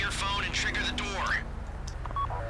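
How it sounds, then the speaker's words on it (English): In the game GTA V, a phone dials to trigger a bank vault door during a heist, producing short beeping tones over a steady low hum as a voice speaks. "Take out your phone and trigger the door."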